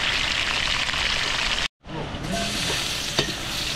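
Food fries in a pan during large-batch cooking for a catered party of about 100 people in Tarlac City, with spicy wings on the menu. A loud, steady sizzle fills the scene, drops out briefly, then resumes close-up.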